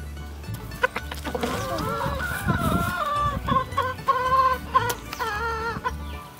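Rhodes hens in a backyard coop cluck loudly and repeatedly in close, uneven bursts of rising calls, with a few sharp scratches and thumps among them and no talking.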